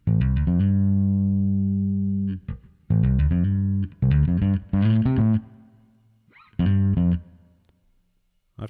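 Bass guitar played dry through a ToneX One with the effect switched off: loud, close sustained notes and short plucked phrases separated by brief gaps, no voice.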